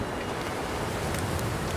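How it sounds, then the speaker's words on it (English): Wind blows steadily in the survival game The Long Dark, a continuous broadband rush with no breaks and no voices. "Oh dear, is it ever windy again?"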